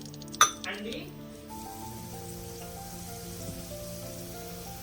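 Tempering seeds and two dried red chillies frying in oil, opening with a sharp metallic clink followed by a faint, steady sizzle beneath a talking voice.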